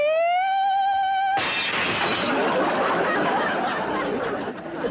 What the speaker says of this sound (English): I hit such a perfect note, it busted the glass.